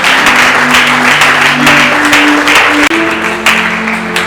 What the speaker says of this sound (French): Et il mérite nos applaudissements.